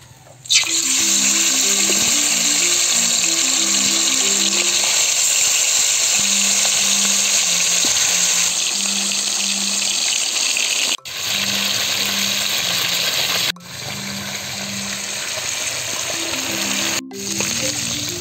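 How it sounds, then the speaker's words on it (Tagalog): Pork leg (pata) frying in hot oil gives a loud, continuous hiss and sizzle throughout, briefly dipping a few times, with a melodic tune playing underneath and no talking. "pagkatapos natin ibabad ng 45 minutes, magprito na tayo"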